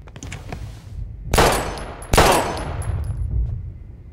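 Gunfire in the video game Life is Strange, with two loud, close shots about a second apart, each bursting out and then ringing briefly over a low rumbling background.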